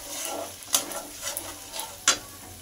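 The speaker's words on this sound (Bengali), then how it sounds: "দইয়ের মিশ্রণটা দিয়ে ভালো করে সব কিছু তেলের সঙ্গে কষিয়ে নেব" Spices and a yogurt mixture frying in hot oil over a medium gas flame for a methi katla kalia fish curry: a steady soft sizzle with scraping stirs and sharper clinks of a spoon against the pan.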